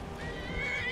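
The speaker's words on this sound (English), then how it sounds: "My horse is fighting with someone." A horse neighs in the video game Skyrim, a faint, drawn-out whinny over a low rumble of background noise.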